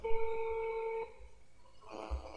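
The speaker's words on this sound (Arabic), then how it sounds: "وكما تلاحظون هنا الهاتف يرن" Ringback tone of an outgoing phone call placed through a free international calling app, a steady electronic ring that sounds once and cuts off, followed by a brief faint click.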